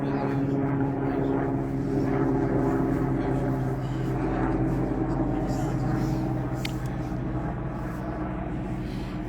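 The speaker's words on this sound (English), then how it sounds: "As we get the helicopter going over." Helicopter passing overhead at a darts match between two players, a steady low droning rotor and engine hum sustained throughout, fairly loud and continuous, with faint crowd and voices mixed beneath.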